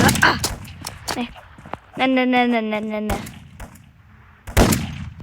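Gunfire in the Roblox sky test game: sharp, loud shots and bursts of weapon fire break through the game mix, with a sustained tonal game sound in the middle, while a person talks between the blasts.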